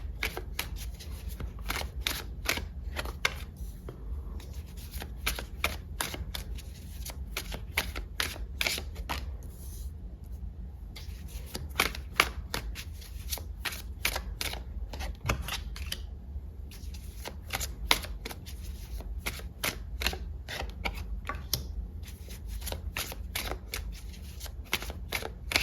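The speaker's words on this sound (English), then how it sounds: "I'm going to start with pulling you some cards here." Tarot cards being shuffled by hand during a pick-a-card love reading, a steady run of crisp riffling flutters and soft slaps that continues without talk for the whole stretch.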